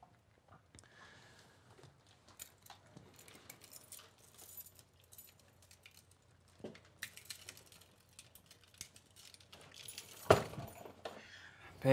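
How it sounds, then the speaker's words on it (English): A set of keys jangles and clinks close by as it is handed over, with scattered metallic rattles building to a sharper jingle near the end over a quiet room. "Here's the keys"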